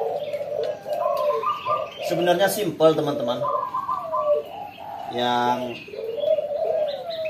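A captive spotted dove (derkuku/tekukur) repeats soft, hollow coos in short phrases, close to the listener, while someone talks over and between the calls.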